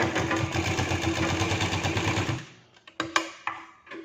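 A sewing machine stitches a blouse, running in a steady, fast mechanical rhythm for about two and a half seconds before stopping, followed by a few sharp clicks and handling sounds.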